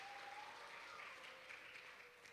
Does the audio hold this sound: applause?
yes